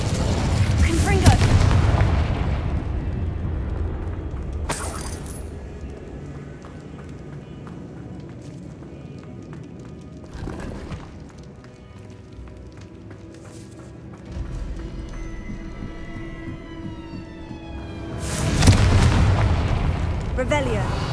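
Confringo explosive spells in Hogwarts Legacy go off as several heavy booming blasts, a loud burst at the start, a sharp one near five seconds, another around ten and a big one near the end, with rumbling game noise between.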